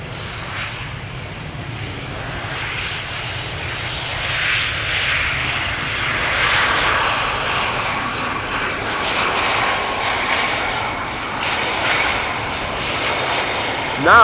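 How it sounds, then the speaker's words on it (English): Two airliners departing together on parallel runways at Amsterdam Schiphol, a broad steady jet-engine roar that swells slightly in the middle and holds loud throughout, with no talk over it. "And you can see 2 airplanes simultaneously taking to the sky."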